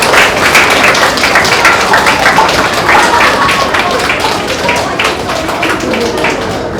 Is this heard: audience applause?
yes